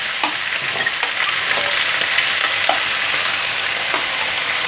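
Mushrooms stir-frying in a hot pan, a steady loud sizzle with occasional soft scrapes of the spatula, close and continuous, with no talking.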